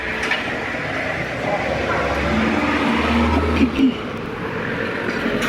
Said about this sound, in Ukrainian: роз'їжджаються ці буси з базару